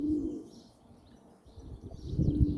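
Pigeons coo nearby in low, throaty bursts while feeding, fading in the middle then rising again, with faint chirps and rustling around them.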